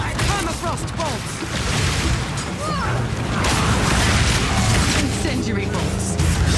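Crossbow bolts fire and explode in Path of Exile 2: armor-piercing, incendiary and permafrost rounds in a steady barrage of booms, cracks and whooshing blasts. A game voice calls out over the continuous roar.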